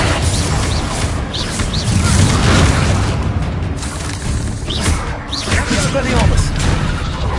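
Spell explosions in the Hogwarts Legacy video game, including Bombarda and Confringo, go off in a dense run of booms and bursts while voices call out under the battle noise.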